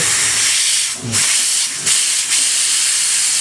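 Steam hisses from a pressure cooker being slowly vented while lauki and chana dal cook inside, a loud, steady high rush with a few brief dips and surges as the release is eased.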